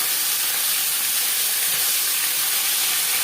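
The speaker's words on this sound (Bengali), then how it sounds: "4 চামচ রিফাইন্ড অয়েল গরম করে নিয়েছি, দিয়ে দিলাম মাছের মাথা।" A katla fish head sizzles in four spoons of hot refined oil, a loud continuous broadband hiss and spatter that fills the whole clip at a steady level with no voices.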